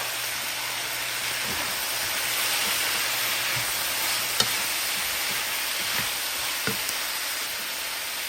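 Broccoli and bell peppers cooking in a pan give a steady, even hiss of frying with a few faint clicks, close and constant, no voices.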